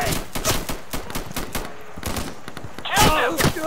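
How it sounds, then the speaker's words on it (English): Rapid gunfire in the tactical shooter Insurgency, several quick bursts of close shots cracking in succession, followed by a louder cluster of shots near the end, with game voices mixed underneath. "I'm taking fire."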